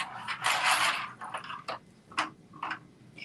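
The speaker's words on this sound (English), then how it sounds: "I'm sewing down the side from the bias tape that we attached" A sewing machine runs a seam down the side of a Carmen top along attached bias tape, with a dense mechanical burst followed by several short, clattering runs and pauses, close up and with no talk.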